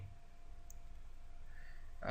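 A single mouse click on a search-for-domain-names button during a WordPress website-building tutorial, a short sharp tap near the end after a quiet stretch of low background hum.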